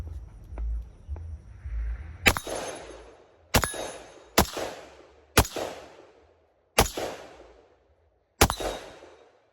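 Six sharp, loud shots from a Ruger Mini-14 rifle fired from a standing position outdoors, spaced irregularly about one to two seconds apart, each with a ringing decay and no talking.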